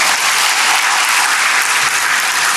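A church congregation claps together in loud, dense, continuous applause.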